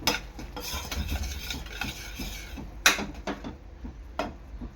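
Melted jaggery is stirred in a pan for mango modak, a steady scraping and swishing stir close up with faint sizzling and a few sharper utensil knocks against the pan.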